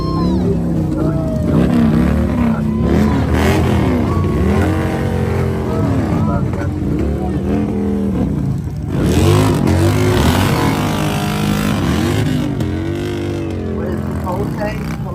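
Traffic and a mini bike rumble and rev while leaving a concert at the Sturgis Buffalo Chip in 2024, engines loud and close with shifting pitch, under people talking throughout.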